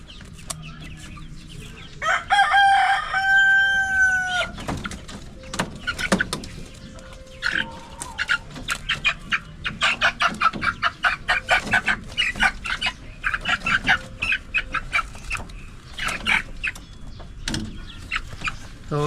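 Dekalb White chickens cluck and squawk busily nearby, with one bird crowing early on and a steady run of short clucks, while a person talks quietly in the background.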